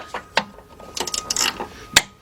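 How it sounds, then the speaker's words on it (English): Ratchet with a 13mm swivel socket working a bolt on a 2002 Dodge Stratus 2.4 engine, a few quick clicking ratchet strokes close up, irregular and loud against a quiet background. "get my 13mm swivel socket. And go down there"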